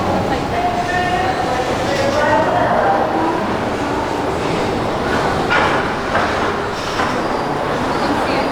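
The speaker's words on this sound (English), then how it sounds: "as we look up the track, we see another train which is getting ready to leave." A London Mail Rail underground train pulls away in a tunnel, giving a loud, steady rumble with some wheel squeal and rail clatter while someone talks over it.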